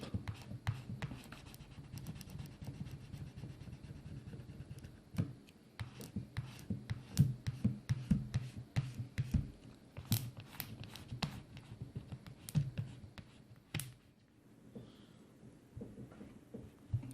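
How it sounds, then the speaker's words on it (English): A card scrapes across a hydrogel screen protector on a phone, pushing bubbles out with soft rubbing strokes and a series of quiet, sharp ticks and scratches, close and faint. "you can slide every single bubble out"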